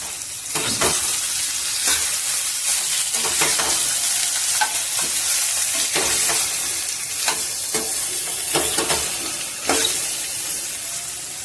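Ridge gourd frying in hot oil, stirred with steady scraping strokes over a continuous close sizzle, with sharper clinks of the spoon against the pan at intervals.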